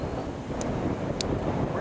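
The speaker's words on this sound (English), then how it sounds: "We're gonna get this gust here in a minute." Wind gusts roar across the microphone during a tornado outbreak in Edina, a broad rushing bluster with a couple of brief high clicks.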